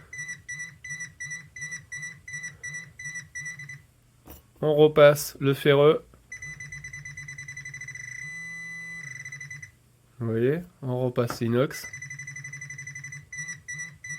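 Metal detector tones pulse in steady rhythmic beeps, shifting to a different steady pitch partway through as it identifies a non-ferrous target, while someone speaks briefly over them twice.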